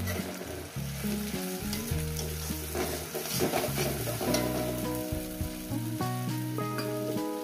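Spice paste and the water used to rinse its bowl hit fried onions in a pan for a Bengali katla fish curry, giving a steady, loud sizzle with stirring, under continuous melodic background music.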